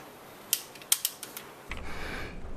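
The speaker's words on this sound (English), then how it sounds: "Okay, that's to close the bolt." A Scorpion submachine gun's bolt is handled and closed, giving several sharp metallic clicks followed by a short sliding mechanical rasp, close and crisp.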